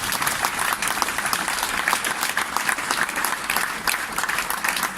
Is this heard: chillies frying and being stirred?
no